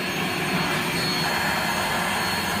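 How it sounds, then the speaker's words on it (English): A Rainbow SRX vacuum cleaner runs steadily and loudly up close while cleaning walls in a home, a continuous broadband motor whoosh and whine with no breaks. "You can vacuum your walls with this thing."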